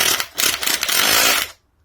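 A Makita 8443D drill converted to lithium-ion batteries whirs loudly up close in drill mode, its motor pulsing and surging in short bursts before running steadily and cutting off abruptly into silence.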